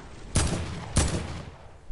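Two crisp gunshots crack out about half a second apart in the video game Fortnite, each with a short decaying echo over quiet background noise.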